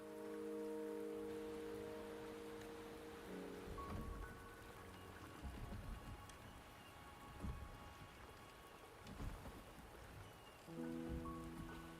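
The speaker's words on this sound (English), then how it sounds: "The rain is subsiding, and the sky will soon clear." Steady rain falls in the Wuthering Waves video game, a continuous soft hiss of drops with a few low rumbling thuds and tonal game music layered underneath, with no voices.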